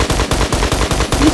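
Rapid automatic gunfire in a video game, a tight burst of about seven loud, evenly spaced shots sprayed in quick succession with no speech over it.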